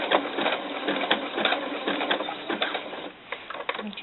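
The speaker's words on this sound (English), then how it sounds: "I'm just going with the flow of the sewing machine." A domestic sewing machine stitching doll underwear fabric, a steady rapid mechanical whir with fine rhythmic clatter, close and continuous, dipping briefly near the end before resuming.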